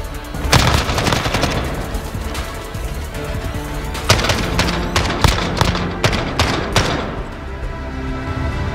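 AK-47 fire in Call of Duty: Modern Warfare multiplayer, loud close bursts of automatic shots with sharp repeated cracks, brief pauses between volleys and a rapid string of shots toward the end.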